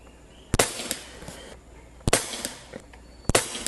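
Umarex Gauntlet 2 .25 caliber airgun fires three sharp, crisp shots spaced well apart, each followed by a faint metallic ring and small clicks of handling in a quiet setting.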